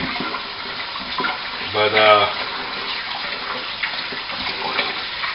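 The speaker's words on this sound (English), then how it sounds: "I rinse the rice really good to get all the extra starches out of it." Tap water runs steadily while rice is rinsed under it in a home kitchen, a continuous hiss with a voice talking over it.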